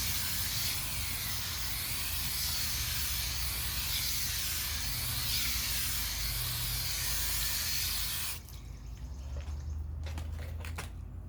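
Water sprays hard onto a tire as it is rinsed during cleaning. The loud, steady hiss runs for about eight seconds, then stops abruptly and is followed by a few scattered drips and clicks.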